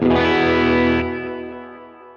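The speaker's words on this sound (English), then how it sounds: "It was a blues breaker kind of thing, so we used the King of Tone" An electric guitar through a King of Tone overdrive modeled on a Line 6 Helix, blues-breaker style: one loud, rich, lightly driven chord rings out, then fades steadily over about two seconds, alone.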